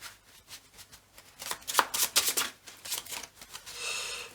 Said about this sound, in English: we're just going to give this a quick shuffle.